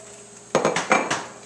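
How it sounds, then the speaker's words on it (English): A spoon clinks and scrapes against a pot while cream cheese is stirred into polenta, three or four quick metallic knocks close by after a quiet start. "So I'll just quickly stir this in just to combine."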